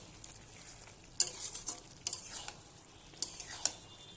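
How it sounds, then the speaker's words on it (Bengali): Pointed gourd and potato curry with lentils is stirred in a pan, giving a few sharp spoon scrapes and taps over a faint sizzle, close and fairly quiet. "ভালোভাবে নেড়ে নেব।"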